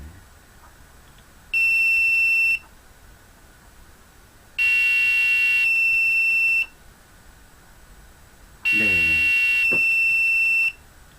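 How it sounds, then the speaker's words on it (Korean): An Arduino piezo buzzer sounds three sustained, shrill electronic beeps about a second long, evenly spaced with gaps between them, over low background hum as LEDs blink. "동시에 켜지고 동시에 꺼진 다음에 LED가 켜지고 부저가 울리고"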